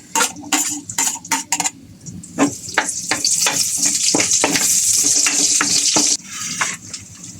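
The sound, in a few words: garlic sautéing in a pan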